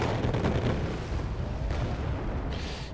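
RBS-70 anti-air missile fire in the Wargame Airland Battle video game, heard as a loud, heavy low boom and rumbling roar that fades over three seconds, with a brief hissing burst near the end.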